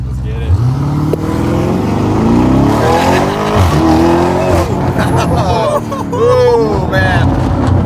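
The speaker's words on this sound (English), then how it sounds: "Exhaust on this thing. It's nuts. It has more crackle than I've like ever heard in any vehicle." A sports car accelerates hard down a short straight, its engine roaring through the revs and its exhaust popping and crackling, while excited voices talk over it inside the car.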